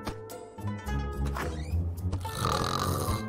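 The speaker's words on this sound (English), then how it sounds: "That's not snoring. It's a chainsaw." A cartoon chainsaw effect mistaken for snoring, a continuous rasping, buzzing drone with grunting, snorting pulses that runs loudly throughout and grows harsher toward the end.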